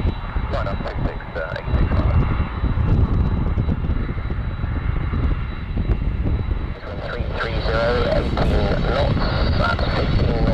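A Globespan Boeing 767 airliner takes off from Brize Norton, its jet engines roaring in a broad, sustained rumble that swells toward the end, with people talking over it.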